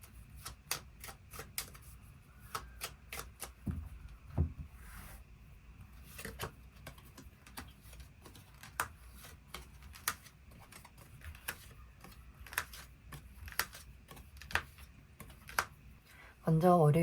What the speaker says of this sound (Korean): 추가 카드로 일별로 월요일부터 일요일까지 어떤 하루를 보내게 될지 추가 카드 뽑아보도록 하겠습니다